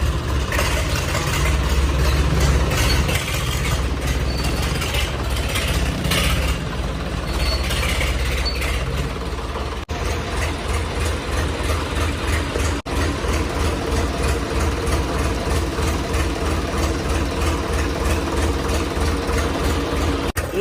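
A Swaraj tractor engine runs steadily for the whole stretch, a loud, continuous low diesel throb close by with no pauses and no talking.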